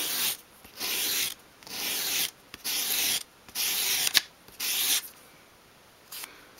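Sanding strokes shape a bevel on a 1/12 scale dolls house fireplace surround piece, with about five steady rasping sweeps separated by short pauses, close and fairly loud.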